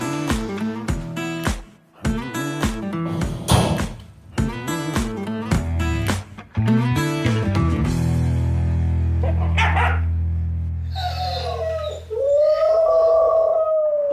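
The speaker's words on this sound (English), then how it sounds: "Definitely howling, he's barking, which is symptoms of separation anxiety." A dog left home alone with separation anxiety howls and barks in long, loud sustained cries with repeated barks, close by and continuous throughout.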